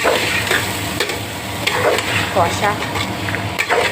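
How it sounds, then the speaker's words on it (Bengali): Potatoes and peas sizzle in a pan with turmeric, chilli powder and salt for ghugni, stirred with continuous scraping and clinking against the pot, close and loud, with a voice talking faintly underneath. "আর এগুলোকে ভালো করে একটু কষিয়ে নেব"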